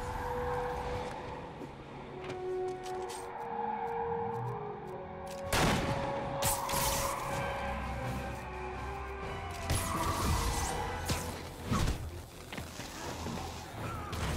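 Gunfire from stolen vehicles in the video game Marvel's Spider-Man, heard as sharp bursts and booms over a steady mix of traffic and city noise, with a heavy blast near the middle and more bursts toward the end.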